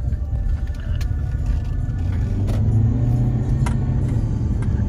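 A car cruises along Avenue 48 in Indio, California, its engine and tyre rumble steady and close inside the cabin, with faint clicks now and then.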